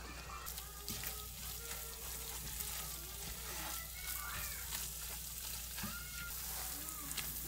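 Celery and onion sizzle steadily in a pot as flour goes in, with scraping and stirring knocks breaking through the constant frying hiss at close range.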